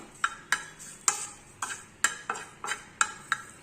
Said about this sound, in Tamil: அதை போட்டு அதையும் வறுத்து அதோட போட்டுக்கலாம்